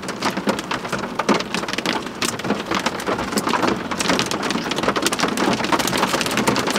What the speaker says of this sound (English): it's freaking hailing out, crazy